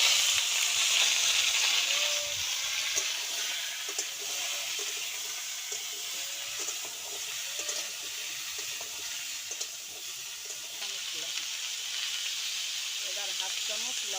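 Mango pieces hit hot oil already seasoned with dried red chilies and fennel for a sweet, sour and spicy pickle, a steady bright sizzle close by, with a voice talking over it.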